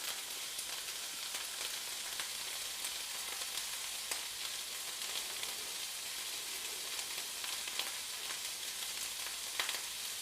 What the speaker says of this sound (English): there's something quite heartwarming about the noise of something cooking on the top as well